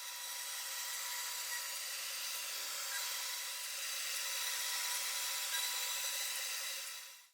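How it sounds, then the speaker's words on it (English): A CNC router cuts chipboard panels for an amplifier cabinet build, a steady high whining, hissing machining noise that runs continuously and evenly at moderate volume with no talk, then stops abruptly at the end. "here I'm showing you some heavily edited highlights of the chipboard CNC cutting sequences."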